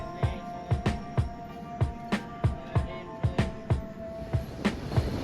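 A passenger train on the Howrah to New Jalpaiguri run crosses the Farakka bridge, with rhythmic clickety-clack wheel beats repeating in quick pairs, loud and close, under a steady rumbling hum.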